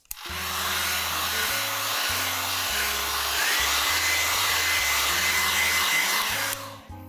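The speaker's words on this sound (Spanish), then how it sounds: "lo voy a calentar ligeramente con un secador de cabello para hacerlo un poco más suave" Hair dryer blowing to gently warm buttercream, a loud steady close whir with shifting motor hum, running alone for several seconds before switching off.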